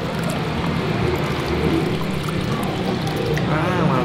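Bottled Teh Botol Sosro original tea poured over ice cubes, a steady close splashing pour running the whole time with a faint rising gurgle near the end.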